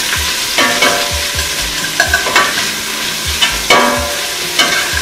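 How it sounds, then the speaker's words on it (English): Julienned onions sautéing in a pan for chicken biryani, a steady close sizzle broken by repeated scraping stirs, loud and with no voices. "I'm going to add these in here. You hear that sizzle? And we're just going to now saute this until it's nice and caramelized."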